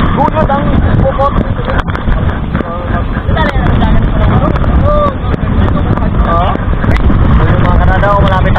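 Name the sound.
strong monsoon wind from typhoon at sea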